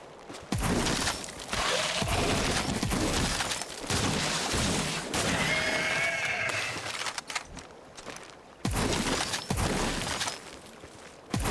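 Rapid bursts of loud gunfire in the video game Scars Above crack and boom in clusters, with brief pauses between volleys and some shattering impacts.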